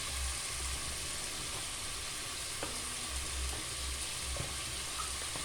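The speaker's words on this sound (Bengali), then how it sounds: "আর এই যে ডিম আমি এদিকে ভাজি রাখছি, ডিম ভুনা করতেছি" Eggs frying and being stirred in a pan for bhuna, a continuous close sizzle with occasional scraping clicks and a low background rumble.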